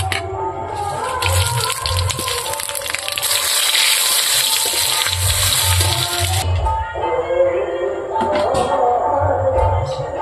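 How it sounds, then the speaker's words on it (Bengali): Dried chilli, bay leaf and five-spice are tempered in hot oil, giving a loud, bright hissing sizzle that swells for several seconds and then subsides, with low kitchen rumbles and clatter underneath. "তেল গরম হয়ে গেছে, এখন আমি ফোড়ন দিয়ে দেবো। দেখুন, শুকনো লঙ্কা, তেজপাতা আর পাঁচ ফোড়ন দিয়েছি।"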